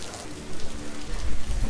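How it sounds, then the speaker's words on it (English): Steady rain falls in Paraty, Brazil, a dense continuous hiss of drops on surfaces. It is close and fairly loud, swelling slightly partway through, with no voices. "wait for the rain to stop"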